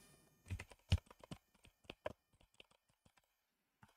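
Soft, close clicking of keys on a computer keyboard, an irregular run of taps that thins out and trails off into quiet.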